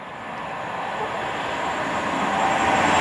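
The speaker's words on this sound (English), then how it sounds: "It's a Pendolino." An Avanti West Coast Pendolino train rushes past as a steady, broad roar that builds gently in loudness over a few seconds, with a faint high whine above the rumble and no talking.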